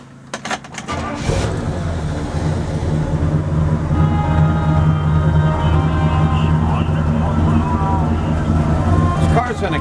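After a few brief clunks, a 1964 Pontiac GTO V8 settles into a steady, rumbling idle that stays even and unrevved, close by and moderately loud.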